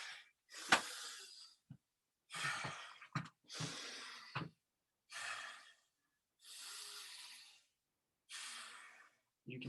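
A man recovering from exertion breathes heavily, with loud, deliberate breaths repeating in slow spaced bursts that grow more measured as he works to calm his breathing.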